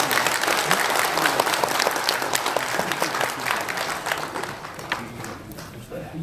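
An audience at a lecture hall claps to welcome the speaker, with dense applause that is strong at first and then gradually thins and fades toward the end.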